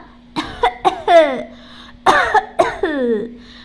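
A voice imitates coughing in two bursts of rough, hacking coughs separated by a brief pause, close and clear over a faint hum.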